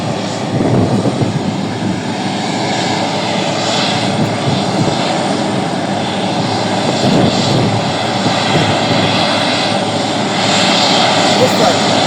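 A small propeller airplane engine runs during pre-flight checks at Kamuzu International Airport in Lilongwe, Malawi, a steady, moderately loud drone heard from nearby, with people talking over it.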